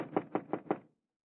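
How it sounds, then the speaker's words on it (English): Four firm knocks on a door in an even rhythm, close and distinct, then silence. "Knock on the door and see if she's home."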